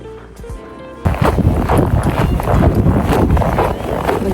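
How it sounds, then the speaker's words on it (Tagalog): Strong wind buffets the microphone with a loud, rough rumble that starts abruptly and keeps roaring without letting up. "Grabe, sobrang lakas ng hangin."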